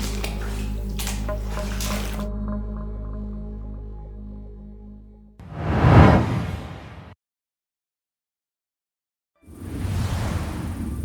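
Water in the flooded section of an abandoned iron-nickel mine in the Albanian mountains, heard as two separate bursts of splashing and sloshing that rise and fade, with a quiet gap between them and a steady hum at the start.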